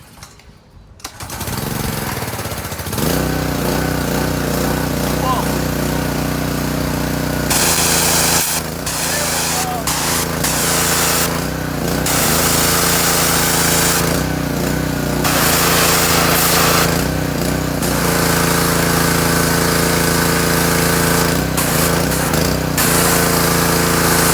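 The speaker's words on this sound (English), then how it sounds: "So now we're going to start the pressure washer up." A gasoline pressure washer engine with a choke and fuel pump starts up after a pull and then runs loud and steady at close range, its rough droning note wavering slightly throughout.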